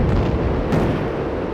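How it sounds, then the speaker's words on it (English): Bullpup air-to-ground missile launching and striking its target in the Strike Fighters 2 flight combat game, heard as a continuous loud roaring rumble with a brief burst partway through, no talk over it. "Missile away."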